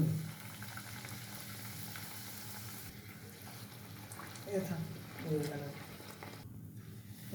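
Salty khaja dough frying in hot oil: a steady fizzing sizzle that swells twice as pieces go in, with brief louder bubbling bursts, heard close and fairly quiet.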